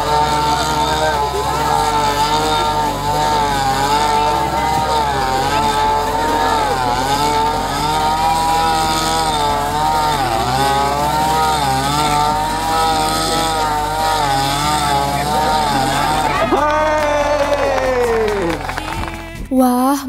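An ordinary lawn mower engine buzzes steadily throughout a mowing race, its drone running under music and excited commentary.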